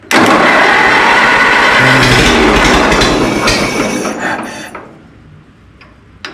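A Minneapolis Moline tractor engine cranks and catches with a loud, rough, rumbling clatter up close, running for several seconds before dying away into near silence, followed by a brief click at the end.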